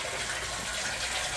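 Water rushing steadily through a flow meter into a pond as it fills, a constant hissing gush with no breaks, heard up close.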